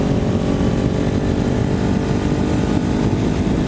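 A Ninja 400 motorcycle engine drones steadily while riding on a chilly evening, with a continuous low rumble and wind noise at a constant loudness and no talking.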